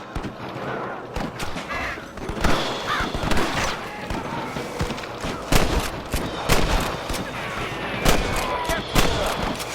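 A shootout in Red Dead Redemption at Pike's Basin, with a dense run of loud gunshots and bursts of rapid fire over several seconds, mixed with shouted game dialogue.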